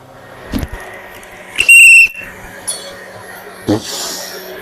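A whistling kettle in a home kitchen while chicken broth cooks: a short, loud, shrill whistle burst in the middle, set among scattered clinks and kitchen clatter.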